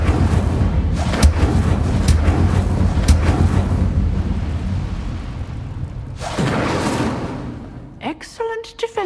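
An Incendio fire spell in Hogwarts Legacy: heavy whooshing blasts with low rumbling bursts, several sharp flares in succession, a later burst near the end, then brief crackling pops, with some voice mixed in.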